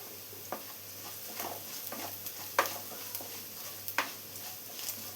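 Turmeric and chili powder sautéed in a pan, heard as soft scraping stirs and a light sizzle, with a few sharper spoon knocks against the pan over a low steady hum.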